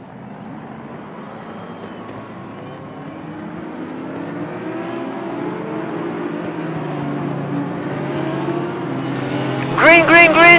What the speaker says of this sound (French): le rugissement des moteurs se rapproche de la ligne droite de départ